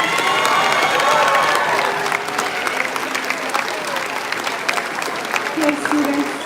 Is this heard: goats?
no